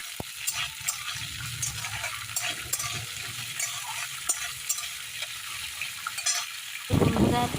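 Soaked raw chickpeas, grated coconut and peanuts fry in oil with a soft sizzle, while a spoon stirs and scrapes in uneven strokes and a sharper clatter comes near the end.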